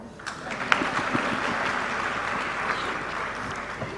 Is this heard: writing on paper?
no